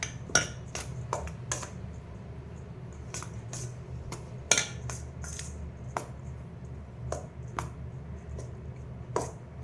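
A spoon scrapes and clinks against a bowl while churma ladoo ingredients with cashews and almonds are stirred together, producing irregular sharp taps and knocks over a soft low rustle, close and fairly quiet, with no speech.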